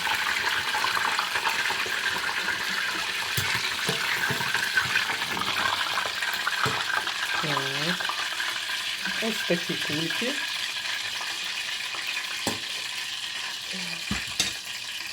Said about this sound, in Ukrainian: Щось дуже так тріщати почало. Мабуть, вода попала.